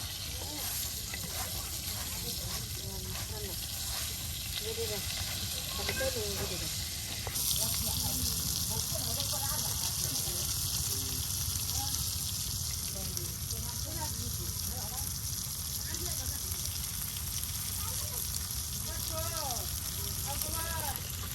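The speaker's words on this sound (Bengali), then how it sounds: "এই যে হয়ে গেছে আমাদের মাছ ভাজি, আর এখন নামিয়ে ফেলা হবে।" Boal fish pieces fry in oil in a village kitchen, a dense, continuous close sizzle and hiss that holds steady throughout while someone talks over it.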